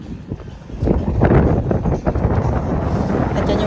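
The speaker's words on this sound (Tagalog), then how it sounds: "Sobrang windy at ang lamig" Strong, cold wind sweeps the Mirador Istmo viewpoint above the Pacific in Paracas National Reserve, Peru, on a foggy late afternoon. It buffets the microphone as a steady low roar that swells louder midway, with no talking.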